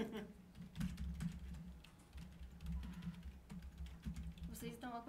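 Keys clatter in quick, irregular bursts on a computer keyboard during a Point Blank game stream, mid-level and close, with low background hum and a little talk near the end.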